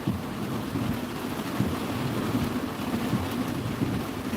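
Steady rain pours down with a low, rolling rumble of thunder underneath, filling the clip evenly with no voices.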